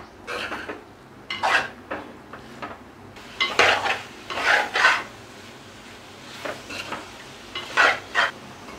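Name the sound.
marinated chicken added to fried onions, sizzling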